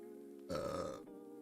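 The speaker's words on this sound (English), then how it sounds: "You're gonna have to deal with the belches, and I'm sorry." A man belches after drinking beer, one short, loud, gravelly burp standing alone in a quiet room.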